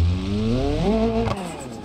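A car engine in BeamNG.drive revs up with rising pitch, then drops off sharply as the throttle is released.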